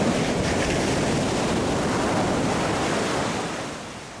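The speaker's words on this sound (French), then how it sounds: "Faut attendre la vague faible" Sea waves break and wash steadily onto a rocky Corsican shore, a continuous broadband roar with wind noise, easing slightly toward the end.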